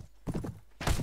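Horse hooves from the video game Clash of Kings, a quick cluster of clip-clop thuds ending in a louder, heavier impact, close and clear.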